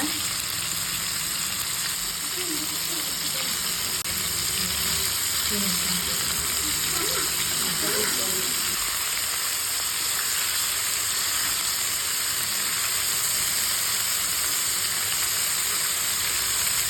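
Chicken popcorn bits frying in oil over a medium flame give off a steady, close sizzle and crackle of bubbling oil that runs unbroken from start to finish, with faint clinks of stirring early on.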